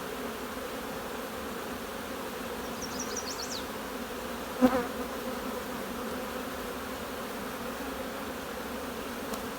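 Honeybees in a nucleus hive give a faint, even hum that holds steady throughout, with a single brief knock near the middle.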